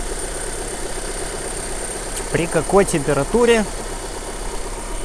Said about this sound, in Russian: При оборотах, вот, холостой ход у нас.